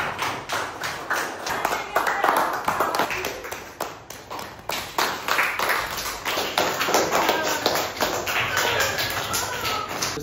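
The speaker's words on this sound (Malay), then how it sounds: "berikan tepukan yang gemuruh untuk diri sendiri" A classroom of schoolchildren claps for themselves, a stream of sharp, uneven hand taps that lasts throughout, fairly close and steady in loudness, with scattered voices underneath.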